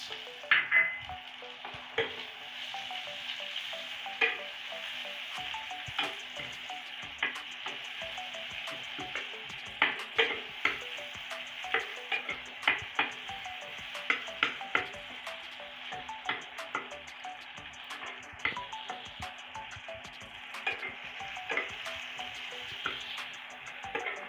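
Chopped onion and garlic frying in oil until browned, a steady sizzle with repeated scraping and stirring strokes in an irregular rhythm, close and clear, with no voices.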